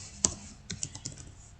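Typing on a computer keyboard while writing in MS Word: a handful of sharp, close key clicks in an irregular rhythm, one louder strike near the start, then several lighter taps.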